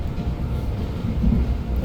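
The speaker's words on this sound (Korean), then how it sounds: "열차는 어느새 가평역을 지나 가평철교일을 지나갑니다." Express train bound for Chuncheon rolling past Gapyeong station over the Gapyeong railway bridge, a steady low rumble and rattle of wheels on track, moderately quiet and continuous with no voices.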